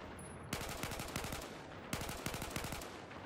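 Rapid three-round bursts from an M4/M16A4 rifle in Battlefield 4, loud and close, fired in two clusters of sharp cracks separated by a short pause.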